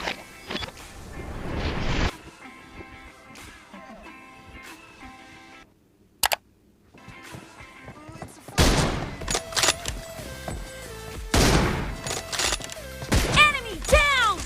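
M24 sniper rifle fire in a team deathmatch video game: loud, sharp gunfire bursts at the start, a brief crack midway, then a dense stretch of shots and impacts toward the end.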